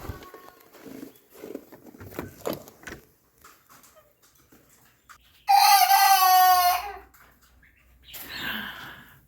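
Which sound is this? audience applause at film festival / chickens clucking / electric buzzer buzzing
chickens clucking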